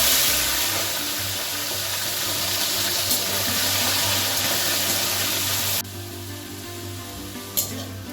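Shrimp fry in hot oil in a pan, giving a loud, steady sizzle that suddenly drops to a quieter crackle partway through, with a brief clink near the end.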